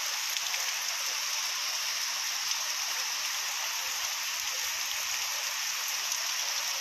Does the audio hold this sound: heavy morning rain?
yes